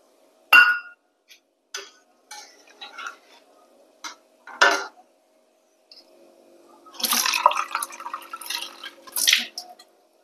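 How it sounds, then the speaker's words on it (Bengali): Water poured into a pan of shol fish curry with ground cumin paste, village-style cooking, heard as short splashing bursts with clinks and drips, then a longer pouring stretch near the end, close and fairly clear with no talk. "জল দিচ্ছি"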